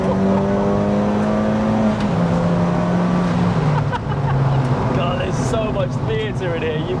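Self-built 350 BHP Mk3 Ford Focus ST track car with an induction kit, engine heard from inside the cabin, loud, rising and dropping through gears with stone clatter, voices talking over it.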